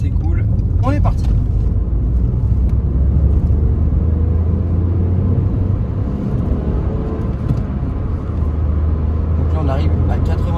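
A Nissan Micra pulls along a straight road, its engine a steady low drone with road and wind noise throughout, while someone talks over it from inside the cabin.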